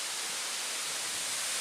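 Chapel Falls waterfall at Pictured Rocks, Michigan, giving a steady, dense hiss of falling water, heard alone and without pause.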